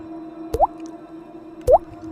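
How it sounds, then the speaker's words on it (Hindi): Two distinct water drips land about a second apart, each a small resonant plop over a quiet, faintly humming background. "पानी गिरने की आवाज़"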